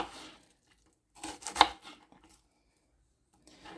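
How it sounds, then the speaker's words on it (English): Red onion being chopped small with a knife on a board, a short cluster of crisp knife strikes in the middle and a faint one near the end, close and alone. "And I'm going to cut it as small as I can."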